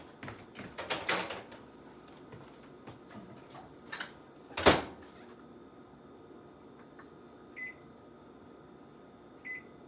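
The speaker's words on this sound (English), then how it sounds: "Now I'm putting this in the microwave for 2 minutes." Kitchen microwave being loaded with a dish of milk: clattering handling, a single sharp door thump midway, then two brief electronic keypad beeps near the end, no talking.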